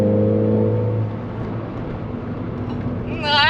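A Ford Fiesta ST being driven hard, its engine droning and then climbing in a sharp rising rev near the end, heard from inside the car.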